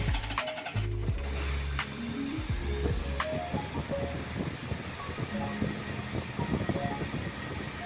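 A 1980 Triumph TR7 engine cranks and catches, then runs on its own with uneven, rough idling, a steady close mechanical drone with rattles and hiss.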